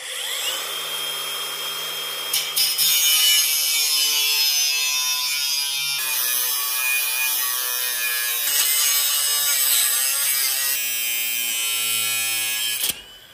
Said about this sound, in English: And a new blade. See how straight of a cut I can do.